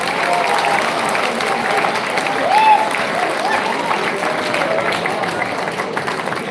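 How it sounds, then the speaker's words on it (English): Sustained applause from a large seminar audience, dense and even, a brief swell near the middle, with faint chatter mixed in. "Please give a round of applause."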